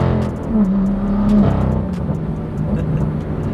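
The N55 engine of a BMW M2 hums and revs up close in a low, steady drone that swells briefly, with no talk over it.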